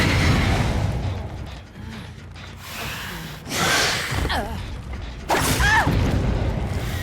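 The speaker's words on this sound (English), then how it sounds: "that sound you heard was just our Devour Hope going" Devour Hope hex perk activating in Dead by Daylight: a game sound with creaking mechanical noise and low booms, followed by a sharp rising whoosh and an eerie tonal sweep near the end, loud and without talk.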